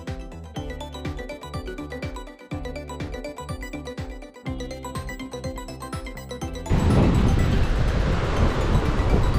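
Harmonic music plays for several seconds, then a loud, steady roar of surf and wind at Bagjuna Beach takes over and fills the rest.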